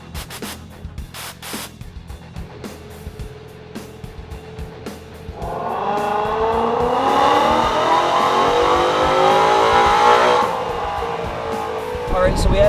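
Nitrous-fed project car engine rising in revs on a dyno pull, a loud climbing harmonic roar building from the middle of the clip and cutting off near the end, with some speech at the start.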